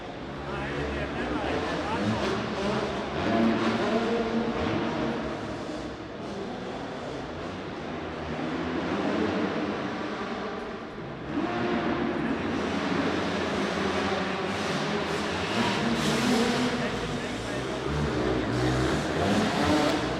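Yamaha motocross motorcycles race around an indoor arena track at a Latvian championship round, engines revving and whining continuously and loudly as bikes pass, with an announcer talking over the roar throughout.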